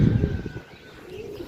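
A pigeon coos low and close for about a second, then quiet ambience remains.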